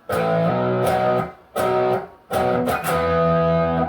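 A distorted electric guitar chugs out a power-chord riff in short bursts, with brief gaps and muted strums between hits, loud and up close.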